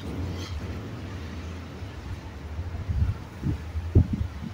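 A big gust of wind rumbles against the microphone during a wind storm, a low steady roar building into stronger buffeting bursts toward the end.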